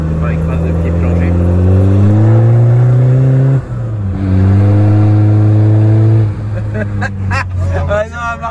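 Audi A3 1.9 TDI diesel engine with faulty aftermarket injector nozzles, revved hard with the throttle floored twice, each pull rising steadily then dropping back to idle, loud and close, with a brief rough idle between.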